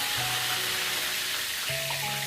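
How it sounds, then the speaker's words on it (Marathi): A brief, steady sizzle of curry leaves hitting hot oil for tempering, fairly quiet, with a low background hum and no talking. "मग त्याच्यानंतर कढीपत्ता टाकणार आहे फोडणीत"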